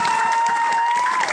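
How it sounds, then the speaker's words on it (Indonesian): A school hall crowd at a junior high student council election final claps and cheers loudly and continuously, a steady wash of applause with a sustained tone running through it. "Tepuk tangan sekali lagi kepada para calon ketua OSIS."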